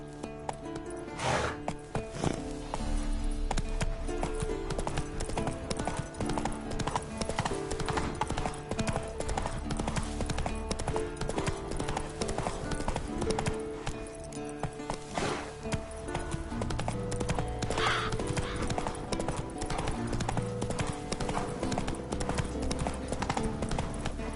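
Roach, a horse in The Witcher 3, gallops in a steady, continuous run of hoofbeats that lasts the whole stretch, mixed under dense background music.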